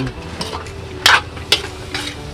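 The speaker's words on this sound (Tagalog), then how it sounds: "At haluin natin." Taro rice mixture with soy sauce being stirred in a pot, sizzling steadily while a utensil scrapes and clinks in a few quick strokes, close and clear with no talking.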